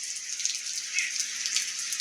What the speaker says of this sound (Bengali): সকাল থেকেই শুরু হয়ে গেল আজকে বৃষ্টি